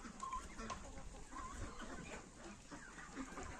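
Chickens, including bearded hens, cluck and murmur faintly in a noisy farmyard, soft intermittent calls over a steady background hum.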